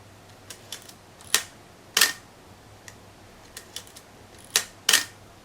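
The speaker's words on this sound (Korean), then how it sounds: "여기 보면은 사진 찍히는 소리가 있죠." A camera shutter clicks several times during a photography lesson on shutter speed: sharp, crisp, close clicks spaced irregularly, with a few fainter clicks between the louder ones and no talking.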